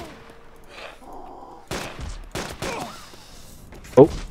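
Sniper rifle shots ring out in the survival video game DayZ, several sharp cracks spaced across a few seconds, with one loud blast near the end, as a person talks over them.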